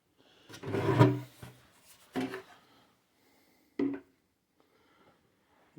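A handmade wooden drawer with box-joint construction and hardwood runners, on a small varnished table built from 1870s lumber, slides open and shut in several short wooden scrapes and knocks, fairly close and quiet.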